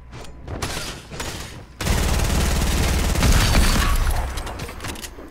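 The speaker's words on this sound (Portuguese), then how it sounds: "Toda hora eu tomo tiro" Gunfire in the video game Fortnite, a short burst of shots followed after a pause by a dense, loud sustained volley of rapid automatic fire that gradually tapers off, with faint voices underneath.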